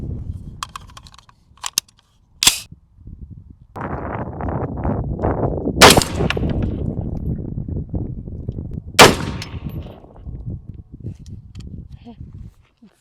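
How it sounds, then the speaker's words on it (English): An Alex Pro Firearms Elite LPR 6.5 Grendel rifle fires at steel targets outdoors: several sharp, loud shots spaced seconds apart, with rustling and wind noise between them and people talking at times. "I'm going to go ahead and shoot some of the Icarta system targets"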